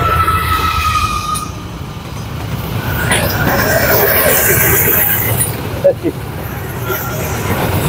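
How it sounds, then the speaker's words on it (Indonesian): A train rumbles past close to Jombang railway station, with a steady heavy roar of wheels on rails and some metallic squealing, mixed with road traffic noise. Someone speaks over it. "Kedengaran kan suaranya? Nah, kereta api."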